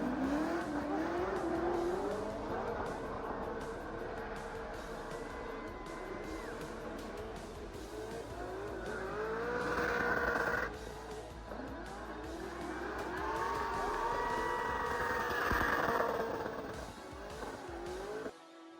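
Drift cars at the Oman International Drifting Championship roar and rev hard, their engines rising and falling in pitch over long stretches. Squealing tyres skid beneath the engines, which stay loud and continuous with a brief dip midway.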